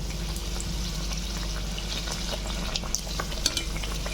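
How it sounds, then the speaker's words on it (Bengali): A paratha fries in a pan over a very low gas flame, giving a steady, soft sizzle with faint crackles and scraping, close and even throughout, with no talking. "একটা পরোটা ভাজতে প্রায় সাত মিনিট করে লাগছে"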